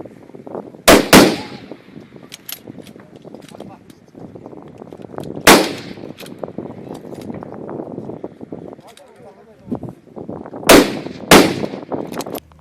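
Sharp, loud rifle shots at a Mongolian hunters' shooting competition, about five reports spaced several seconds apart, each ringing out with a brief echo over steady outdoor murmur and voices talking.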